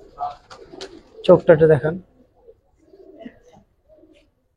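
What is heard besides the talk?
pigeons cooing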